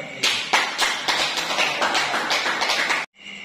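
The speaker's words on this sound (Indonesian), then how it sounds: "Jadi aplaus untuk kalian semua." Classroom students applaud together in a steady burst of clapping lasting about three seconds, fairly close and loud, then it stops abruptly.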